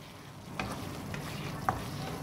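Masala and boneless chicken frying in a karahi, a steady sizzle with a couple of brief stirring scrapes.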